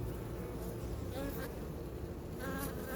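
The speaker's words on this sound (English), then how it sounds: "And then if you see a massing of bees, which I see it, it's on here somewhere." Honeybees buzzing steadily around an open hive during an early May inspection, a dense continuous drone close by with no voices.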